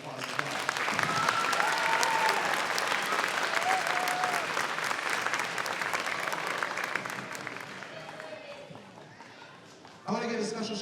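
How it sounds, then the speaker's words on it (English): Applause from the audience at an elementary school beginning band concert, a full dense round of clapping that gradually thins and fades, then a sudden burst of nearby sound near the end; voices mingle in the crowd. "let's give them a huge round of applause as well"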